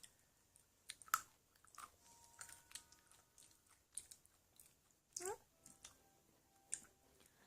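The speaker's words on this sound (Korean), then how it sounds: "엄마도 먹어보겠습니다" Someone chews a crunchy peanut-ball snack from a surprise egg, close and quiet. Several irregular crunches and bites with small mouth noises, mostly alone apart from a faint vocal sound.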